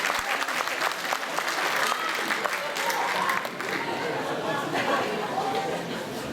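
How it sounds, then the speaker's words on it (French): Audience applause for a young singer after a performance of Indila's "Boîte en argent" at a local radio crochet singing contest in Bain-de-Bretagne, steady dense clapping with some crowd chatter mixed in, sustained throughout. "on l'applaudit encore, on l'encourage."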